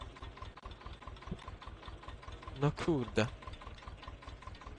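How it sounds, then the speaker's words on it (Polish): A Zetor tractor engine idles with a steady low chugging pulse throughout, while someone speaks briefly over it. "Patrzcie jaki to jest ładny traktorek."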